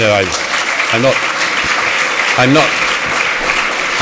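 An audience at a lecture applauds in a continuous rushing wash while someone speaks over it, his voice standing out above the clapping in short bursts.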